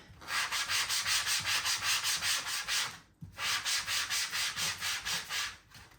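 Brisk scrubbing of a Cricut cutting mat during cleaning, with fast rhythmic back-and-forth strokes in two bursts separated by a short pause, close and steady with no talking.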